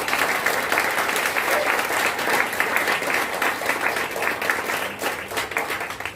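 A large audience claps loudly and continuously at a talk, a thick wash of applause with a few crowd voices mixed in, steady from start to finish.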